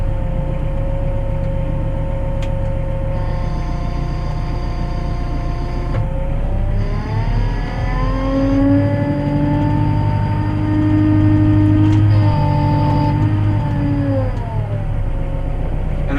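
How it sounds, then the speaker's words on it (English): The engine of a loader fitted with pallet forks runs steadily and loud as it picks up a pallet. A continuous low drone carries a hydraulic whine that rises and shifts in pitch partway through. "Loader's out of float, picking the pallet up now."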